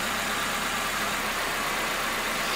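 A 1996 Toyota Corolla engine idles steadily after running a few minutes during a radiator replacement, a quiet, even hum with no talk.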